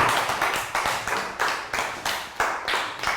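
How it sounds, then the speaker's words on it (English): Young primary-school students in a classroom clap together after a math lesson, close, crisp hand claps falling into a quick, steady repeating pattern, with no talking. "And round of applause for everyone for understanding the lesson."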